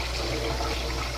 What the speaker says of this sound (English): In order to remove some of the excess starch, run some cold water through it.